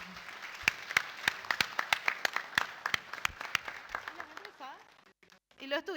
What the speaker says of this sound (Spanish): Un aplauso para este equipo.